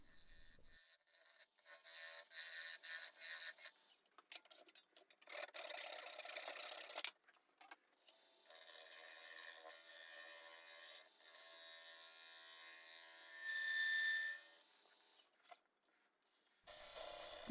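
Woodturning lathe cutting away a sacrificial tenon from a spalted apple and resin lidded box, a close, uneven scraping and rasping of the tool against spinning wood in bursts broken by short pauses.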